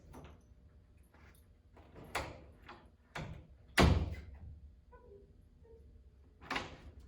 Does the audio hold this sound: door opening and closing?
yes